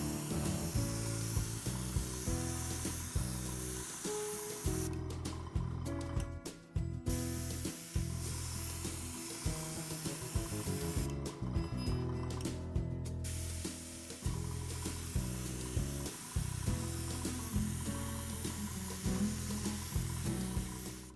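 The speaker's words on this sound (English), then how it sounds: "the air output from the Iwata kit isn't adjustable, so it's tending to kick up the acetate as I spray" An Iwata airbrush kit sprays paint over an acetate stencil onto a Halloween gnome, giving a steady close hiss of air with two short pauses, backed by the constant hum of a portable compressor.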